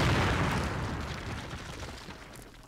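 A heavy explosive charge blasts through a cinder block wall in the Call of Duty video game, a loud close boom with a long rumbling decay.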